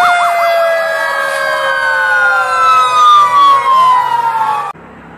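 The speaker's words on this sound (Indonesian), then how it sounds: "Ini ada truk pemadam kebakaran." A toy fire truck siren wails loudly and up close, its electronic tone sweeping up and down steadily for about five seconds before cutting off abruptly.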